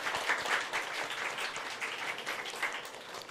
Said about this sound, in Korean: 그리고 축하의 박수를 한번